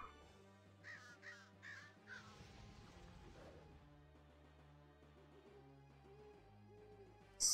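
A crow caws in a pet battle video game, several quick harsh caws in a cluster near the start over a soft musical backdrop, then only the music continues.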